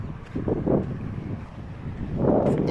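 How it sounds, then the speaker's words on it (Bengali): Wind gusts buffet the microphone on an exposed mountain top in the UAE, rising and falling in soft, rumbling bursts with no voices present. "এখন তো উপরে বাতাস লাগে কিন্তু"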